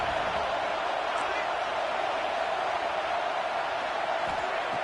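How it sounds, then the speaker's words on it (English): A football stadium crowd roars at Georgia vs Clemson as fans urge the defense toward a red zone stop, a dense, constant wash of distant noise with no letup. "This crowd is trying to inspire this defense to make a big red zone stop."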